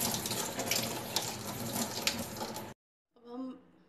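Cold water runs steadily over strained boiled cauliflower florets for gobi manchurian, a close, continuous splashing pour that cuts off abruptly, followed by a brief spoken voice.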